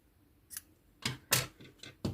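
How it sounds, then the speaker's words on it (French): Scissors snip through purple crochet yarn at a craft table, five short crisp cuts in an uneven rhythm, close and fairly quiet with no talking. "je vais couper le fil violet"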